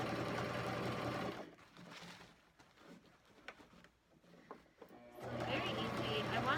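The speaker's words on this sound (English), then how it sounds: "I wish I could zoom in on how I'm sewing" Sewing machine stitching Hmong trim onto a canvas bag, running loud and steady at the start, stopping for a quieter stretch with speech, then starting up again near the end.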